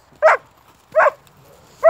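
A dog barks three times at a steady pace, each bark loud, sharp and close, with quiet gaps between.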